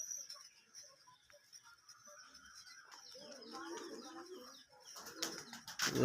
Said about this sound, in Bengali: ওখানে একটা আমার কবুতর বসে আছে, নর কবুতর